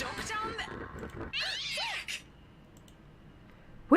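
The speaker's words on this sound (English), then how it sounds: "That was a cat!" A cat meows in The Letter video game, a short rising-falling cry amid game sounds after a stretch of speech, followed by quiet, then a brief louder burst at the end.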